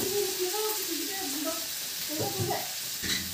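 Cumin powder frying in a pan: a steady soft sizzle and hiss running throughout, with a voice speaking over it and a small clatter near the end.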